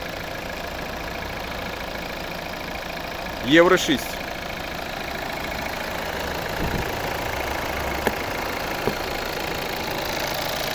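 A 2014 Volvo V60 with a 2.0-litre D4 diesel engine idling in a steady, even drone, with someone talking over it and a brief louder burst early on.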